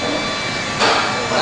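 An impact wrench spins on a Griswold pump, a loud steady close whir whose pitch jumps upward partway through the short burst.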